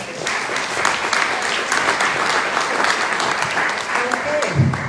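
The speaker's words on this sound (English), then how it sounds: "I think you deserve a round of applause." Applause from attendees at a public information meeting, dense continuous clapping at fairly loud level, with a brief voice or two audible near the end.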